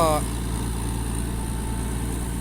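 A P11C rotary tiller's engine and hydraulic pump run in a steady low idle-like drone, close and continuous, with a brief whine at the start.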